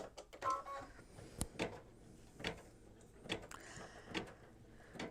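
An embroidery machine stitching white snow onto the rooftop of a mug rug design, heard as faint, rhythmic mechanical clicks and taps at irregular intervals over a low hum.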